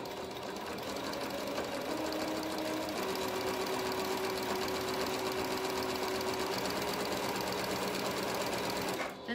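Sewing machine running a slow stretch stitch around a knit collar, a steady close mechanical whir and rapid needle chatter throughout, with faint voice or tonal hum underneath.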